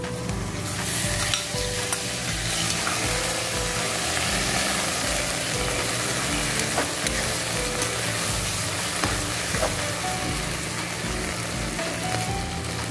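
Beef liver fries in a pan, a continuous dense sizzle and crackle with occasional stirring clatter, close and steady throughout.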